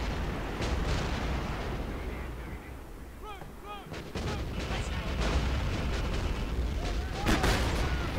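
Heavy artillery rumble from a D-30 howitzer in the Cold War mod of Men of War: Assault Squad 2, a dense roll of booms and blasts running throughout, with two players talking faintly over it.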